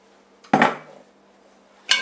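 The metal lid of a pressure canner clanks against the pot twice, two sharp close metallic knocks with a short pause between them.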